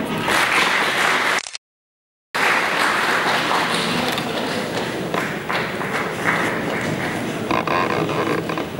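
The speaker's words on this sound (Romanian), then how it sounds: "Aplauze vă rog." Crowd applause at an awards ceremony honouring a diploma recipient from the Chernivtsi Regional Council, dense clapping filling the room, cut by a brief silent gap, then continuing steadily.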